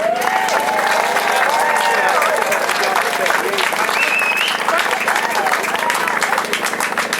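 A crowd at the grand opening of Burgess Park in Southwark claps and cheers loudly and continuously for several seconds, with a voice speaking over the applause.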